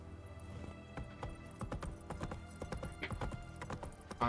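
Horse hooves clopping steadily in The Witcher 3: Wild Hunt, a rhythmic run of sharp close thuds over a busy game soundscape with no talk.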